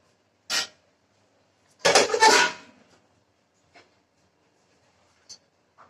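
A hot kadhai (wok) handled in a home kitchen gives a short metallic knock, then a longer clattering scrape, followed by a few faint taps and bumps against otherwise quiet surroundings.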